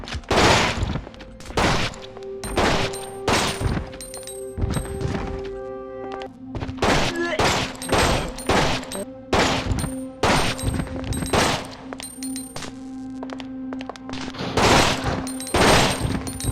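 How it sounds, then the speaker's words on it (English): Burst handgun fire at zombies in Resident Evil Outbreak File 2, with many sharp, loud gunshots in quick clusters over steady game ambience and tonal hum, with no talking. "it's gonna average between 6 and 7 shots, singular shots that is, for the burst handgun to defeat normal mode zombies"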